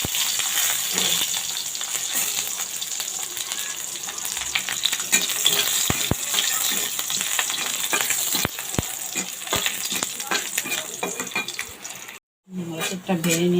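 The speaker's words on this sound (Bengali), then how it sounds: "এখন তার মধ্যে আমি 4-5 কোয়া" Four or five garlic cloves fry in hot oil in a pan, a steady close sizzle running throughout with scattered stirring clicks and a brief drop out near the end.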